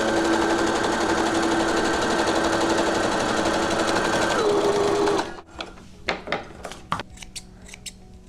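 A sewing machine stitches the end of a fabric face mask with a loud, steady motor whir for about five seconds, then stops, followed by scattered clicks and handling sounds of the fabric and machine.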